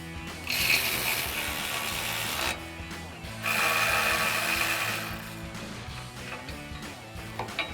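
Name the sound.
ratchet turning a 14mm swivel socket on bolts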